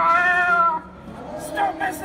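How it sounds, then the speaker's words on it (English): A cat gives a loud, strained meow over a dark, rumbling background, with voices and noise around it, at an amusement park Halloween night event. "Stupid cat!"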